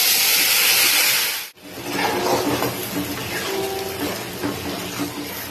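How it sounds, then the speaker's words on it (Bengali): Spice paste fries in ghee for a vegetable biryani, opening with a loud, bright hiss that cuts off abruptly, then continuing as a quieter, rougher sizzle with rubbing, scraping stirs, close and without speech. "মশলাটাকে আমি এখানে ভালোভাবে কষিয়ে নিচ্ছি"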